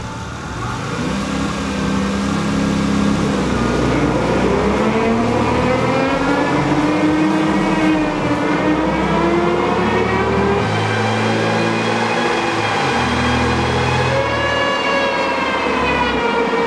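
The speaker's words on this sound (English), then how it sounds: "I don't like the noise the dyno's making." A turbocharged Honda V6 car runs on a dyno. The engine drones loudly and steadily while its pitch rises and falls in long sweeps, with no voices throughout.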